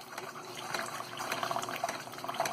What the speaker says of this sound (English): You can see that pump working away down there. There it is, pumping away.